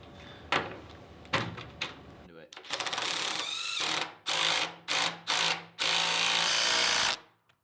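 An impact driver tightens a nut on a bolt through an old floor joist, with a long buzzing run followed by several short hammering bursts, after earlier clunks from handling.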